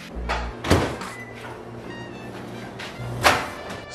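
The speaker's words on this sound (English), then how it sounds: "Gonna put a piece of butter in the microwave." Kitchen microwave door opened and shut to melt a piece of butter: two distinct thunks about two and a half seconds apart, close and moderately loud, with a faint hum between them.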